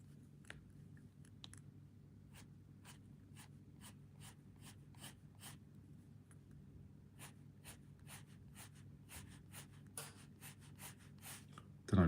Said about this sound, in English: I just hear the pencil on paper